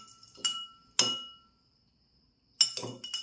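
Spoon clinking against a glass while stirring water with rosemary and fenugreek seeds: a few bright, close metallic taps with ringing decay, a pause, then a quick cluster of clinks.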